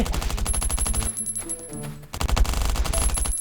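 Rapid automatic gunfire in the survival video game Last Island of Survival, loud bursts of fast repeated shots, a short pause near the middle, then another hard burst, with no talking over it.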